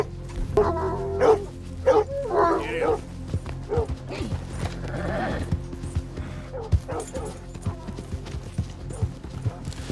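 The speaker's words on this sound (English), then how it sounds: "Those are now wild dogs." Wild dogs in the Red Dead Redemption 2 video game bark in loud, close bursts, then grow sparser as horse hooves clip-clop and game ambience continues.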